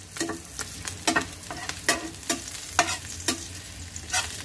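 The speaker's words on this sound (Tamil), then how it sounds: "நடுநோட்டில் கொஞ்சம் ஃப்ளேமை சேஞ்ச் பண்ணிகிட்டே ஸ்டர் பண்ணுங்க." Chicken Manchurian stir-fried in a pan over a steady sizzle, with regular scraping strokes of the utensil landing about twice a second, close and clear.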